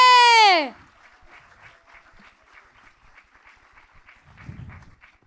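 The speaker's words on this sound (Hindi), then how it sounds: "Let's clap for the glory of God." A congregation at a Christian convention claps in a faint, steady rhythm after a brief tonal swoop at the start, with a short low murmur near the end.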